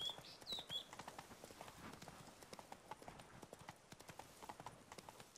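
Horse hooves clip-clop in a rapid, even rhythm throughout The Witcher 3: Blood and Wine, a steady trot with quiet game ambience behind it.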